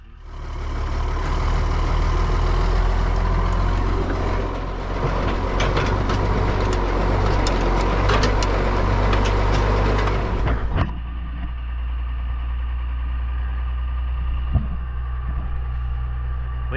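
Ford TW25 tractor engine pulling a big Deutz disk harrow, a loud steady diesel drone with rumbling low end for about ten seconds, then a sudden drop to a quieter idling hum.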